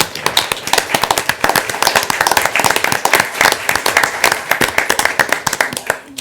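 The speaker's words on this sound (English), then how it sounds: "I think it'd be appropriate to give her a round of applause for what she's done" A round of applause at a Lafayette city council meeting honours the Engineering Division Director: dense, loud, sustained clapping from the audience that carries on for several seconds before tapering off.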